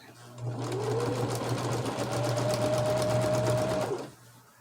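A sewing machine runs steadily for about three and a half seconds, zigzag stitching quilt blocks, its rapid needle chatter close and even from start to stop, with no talk.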